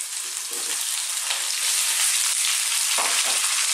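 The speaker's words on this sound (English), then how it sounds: "we're going to fry these around for about four to five minutes" Potatoes, onions and garlic ginger paste fry over above-medium heat with a constant dense sizzle, close up, marked by a few brief scrapes from stirring.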